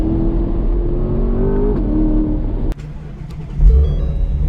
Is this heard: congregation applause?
no